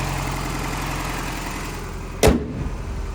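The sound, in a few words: 1992 Toyota 4x4 truck 22RE engine idling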